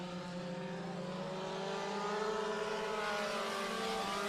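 Race cars howl around Bakersfield Speedway during an opening-night heat race, several engines blending into a distant whine that climbs in pitch as the pack accelerates.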